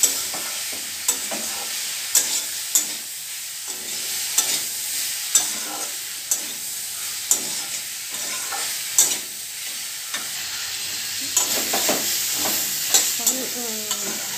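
Turmeric and salt get stirred into hot oil in a frying pan, with a regular rhythm of scraping strokes and light metallic taps over a soft steady sizzle and no voices.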